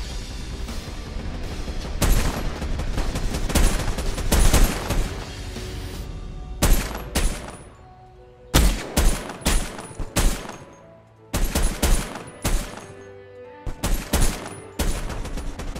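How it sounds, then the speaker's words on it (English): Suppressive gunfire in the Ratten Reich war video game: dense volleys of loud shots and booming blasts in bursts, with short lulls between them and no talking. "the enemy opened a suppressive fire on us"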